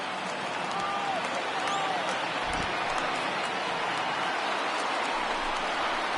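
A large baseball stadium crowd of over 39,000 in the MLB The Show 19 video game cheers in a steady, dense roar that holds evenly throughout.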